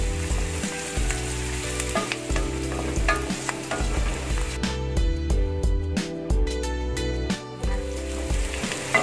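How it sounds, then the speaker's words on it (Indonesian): Garlic stir-fried in a pan for butter shrimp: a continuous close sizzle with rhythmic scraping and tapping of a spatula as it is stirred, loud and steady, no voices. "lalu kita masukkan bawang putihnya, kita aduk rata"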